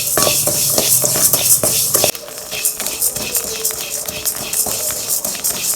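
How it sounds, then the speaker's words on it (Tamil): Rice frying and being stirred in a pan for an urad dal kanji with black kavuni rice, a steady close sizzle with scraping stirs, busier before a brief drop then softer crackling. "நல்லா பொரிஞ்சு வருது பாருங்கள், நல்லா பொரியுது பாருங்கள்"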